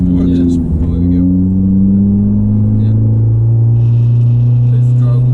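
A Fiat Panda 100HP engine drones steadily while driving, a loud low-pitched hum with a slowly rising tone, heard from inside the car and continuous throughout.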